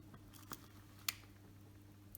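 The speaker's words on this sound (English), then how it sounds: "Then closes the aperture and fires the shutter." A Contaflex II camera on the repair bench fires its shutter: a few faint, crisp mechanical clicks up close, with one sharper snap standing out against a quiet hum.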